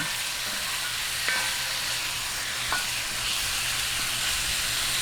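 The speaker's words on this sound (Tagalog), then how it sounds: "Atin lang pong gisa-gisahin hanggang mag-light brown." Chicken sautéing in a pan for Kapampangan bringhe, a steady, even sizzle running throughout with a couple of faint utensil taps, no voices.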